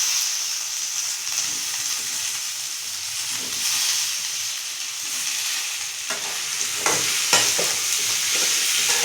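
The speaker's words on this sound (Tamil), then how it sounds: "இது நல்லா எண்ணெயிலேயே வதக்கலாம்." Ivy gourd sautés in hot oil with curry leaves and crushed garlic, giving a continuous bright sizzle up close, with occasional stirring scrapes near the end.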